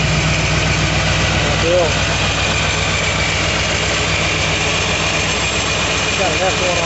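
A supercharged ZL1 Corvette with an F1R ProCharger, methanol injection and XFI fuel injection idles loudly and steadily up close, a deep lumpy rumble with a whining top, while a voice speaks briefly.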